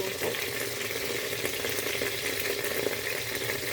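Food fries in a pan with a continuous, even sizzle, close and moderately loud, with no voices over it.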